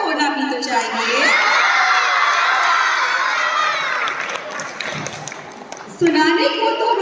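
A school audience at an inter-house children's poetry recitation competition cheers and shouts loudly for several seconds, a broad crowd roar swelling and then fading, framed by a voice speaking before and after.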